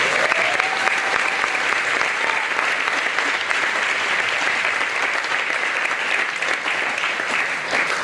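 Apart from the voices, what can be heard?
audience applause for the teachers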